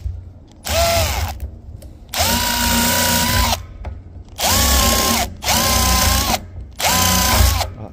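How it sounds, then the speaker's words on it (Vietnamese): A power drill bores sideways into a steel drum in bursts of about a second or more each, a loud whining grind with rising and falling pitch, separated by short pauses. "Mình khoan ngang như vậy."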